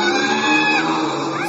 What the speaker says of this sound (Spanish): Se escuchan los gritos, ¿verdad? Es una cosa espantosa.